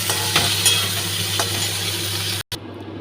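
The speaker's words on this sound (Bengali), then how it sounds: "যেমন ভেন্ডি আলু ফ্রাই হচ্ছে" Okra and potatoes fry steadily in a pan with a constant hiss and a few light stirring scrapes, cut by a brief gap near the end before the sizzle resumes.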